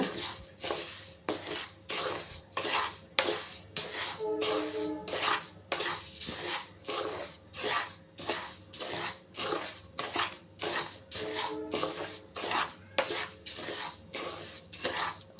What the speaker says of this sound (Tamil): இப்போ வந்து ஸ்டவ் வந்து ஆன் பண்ணணும் நல்லா வறுத்துக்கிறலாங்க